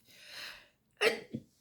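A person sneezes once at close range: a drawn-in breath, a brief silence, then a sharp explosive burst followed by a smaller catch of breath.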